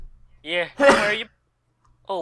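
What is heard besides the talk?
sneeze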